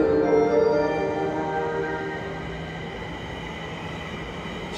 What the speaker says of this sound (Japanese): 地下鉄名城線矢場町駅に来ました。